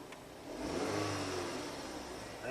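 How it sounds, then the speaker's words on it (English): A 2015 Chevy Equinox engine, recently given a timing job and throwing P0016 and P0017 codes, revs up while warming, climbing to a sustained mid-pitched roar and then easing back toward idle, heard close and clear with no talking. "Just have to warm up the engine a little bit."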